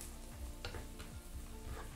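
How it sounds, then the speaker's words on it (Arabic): Chicken pieces fry with garlic and onion in a Moroccan tagine, giving a soft, steady sizzle with faint stirring scrapes and light ticks, low and continuous throughout. "حطيت الدجاج بعدين على اساس انه تحمر الثوم والبصل معه"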